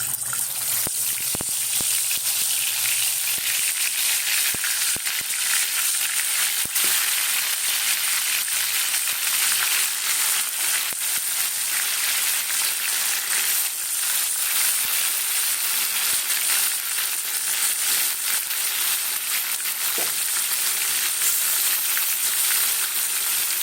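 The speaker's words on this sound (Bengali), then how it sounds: "চলো তেলটা গরম হয়ে গেছে, এবারে মাংসগুলোকে ভেজে নেব।" Marinated chicken pieces frying in hot oil in a pan, a steady loud crackling sizzle that continues without a break, close by with no talk.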